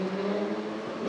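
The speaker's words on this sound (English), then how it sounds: "It's the most noisiest car behind us." A noisy car engine drones steadily behind the listener on a street in Birmingham, a continuous hum with a tonal whine that holds level throughout, no voices.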